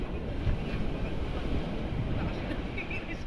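Big waves slap and rush against a small boat at sea, a dense roar of water and wind buffeting the microphone, loud and continuous throughout.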